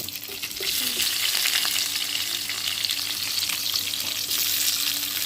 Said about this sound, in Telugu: ముందు ఆనియన్స్ వేసుకోవాలి వేసుకొని బాగా తిప్పేసుకున్నాం